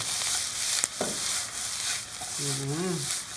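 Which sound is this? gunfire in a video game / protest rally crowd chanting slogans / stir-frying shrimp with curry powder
stir-frying shrimp with curry powder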